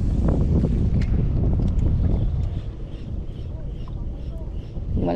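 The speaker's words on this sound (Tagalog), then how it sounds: "Malakas yung hangin." Strong wind buffets the microphone on a fishing outing, a loud broadband rumble through most of the span that eases slightly midway, with brief voice fragments mixed in.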